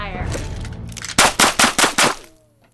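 A volley of paintball guns fires in a burst of about five sharp, evenly spaced shots over roughly a second, loud and close, following a stretch of voices and background noise.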